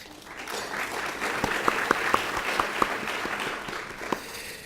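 Applause from a lunchtime audience at a 2019 State of the City address, a moderate spread of clapping with a few sharper individual claps standing out near the room.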